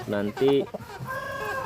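Village hens mixed with a Bangkok rooster in a farmyard, a couple of sharp close clucks followed by a sustained crowing-like call, with a brief spoken word.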